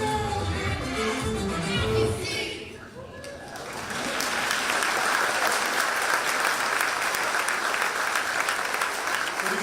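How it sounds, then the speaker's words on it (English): A crowd applauds children at a Washington, DC tourism event, the clapping swelling after a moment of cheering and chatter into a broad, sustained wash of many hands. "they deserve a lot of applause"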